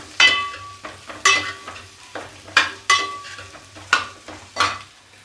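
Four large chopped onions fry in a pan for paneer butter masala, stirred in about five distinct metallic scraping strokes over a soft, close sizzle.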